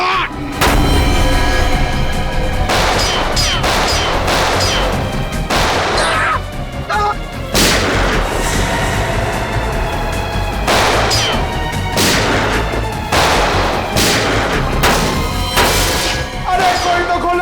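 Loud gunshots crack out at irregular intervals, each burst sharp and echoing, over sustained tonal sounds in the background.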